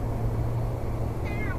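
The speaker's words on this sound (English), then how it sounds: "It's Archie the cat, is it" A cat gives a single short, rising meow near the end, over a steady low hum and background noise.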